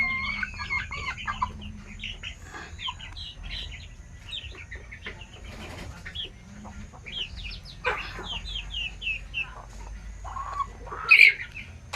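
Native chickens on a farm cluck and squawk as they fight, a busy cluster of close, agitated calls over a low outdoor rumble, ending in one loud sharp squawk.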